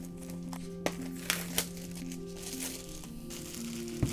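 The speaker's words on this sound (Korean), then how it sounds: "이렇게 비닐로 포장돼 있어가지고 칼로 뜯어줄게요" Plastic wrap around a new keyboard is sliced open with a knife, giving soft crinkling and a few sharp tearing snaps over a steady low hum.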